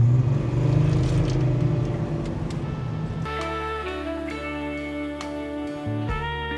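A car drives along a road toward Riga, heard from inside as a steady engine and road rumble that shifts to a smoother, tonal drone partway through, with no talking.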